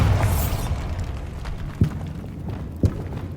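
A Bombarda spell explosion in Hogwarts Legacy, heard as a low booming rumble that fades out, followed by two short sharp pops.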